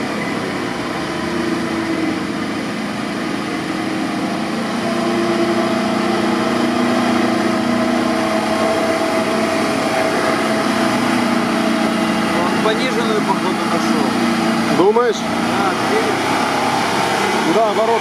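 A GAZ-66 army truck engine idles steadily with a broad, continuous rumble throughout, while people talk over it nearby.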